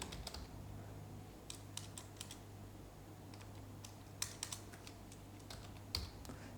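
Quiet typing on a computer keyboard while editing C code, with scattered soft key clicks in small bursts and a few sharper taps over a faint steady hum.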